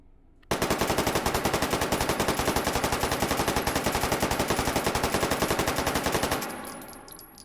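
PP-19 Bizon-2 submachine gun fitted with a muzzle brake firing in H3VR, one long unbroken full-auto burst of evenly spaced loud shots for about six seconds, then an abrupt stop with a fading echo.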